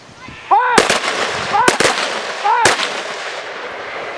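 Three sharp, loud rifle volleys from a squad at a ceremony, evenly spaced about a second apart, with a voiced command before each shot.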